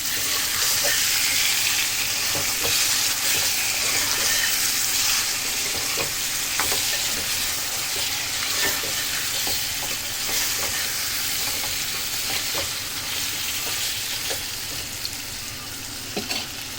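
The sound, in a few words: chicken pieces frying with fried onions in oil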